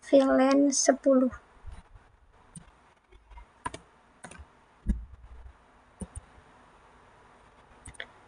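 Switch configuration commands being typed on a computer keyboard, scattered light clicks and taps after a short spoken phrase, quiet and irregular.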